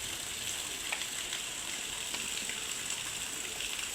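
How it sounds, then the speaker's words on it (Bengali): Steady heavy rain at night during a storm, with water running on the street, a dense, even hiss with scattered brief spatters throughout and no voices. "এই যে দেখতে পাচ্ছেন কত বৃষ্টি হচ্ছে"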